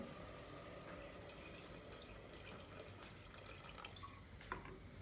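Water pours quietly into a cooking pot of food on the stove, a soft trickling and dripping at low volume with no talking.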